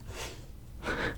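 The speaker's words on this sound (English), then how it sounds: "That's my dog sniffing at the door." A dog sniffs at a door in two soft bursts of nasal sniffing, close by, separated by a brief quieter stretch of breathy background noise.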